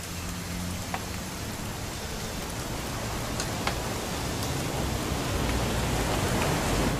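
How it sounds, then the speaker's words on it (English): Steady rain in the video game What Remains of Edith Finch hisses continuously, a dense wash of drops with a few sharper taps standing out, no voices. "It's gonna rain the whole weekend, isn't it?"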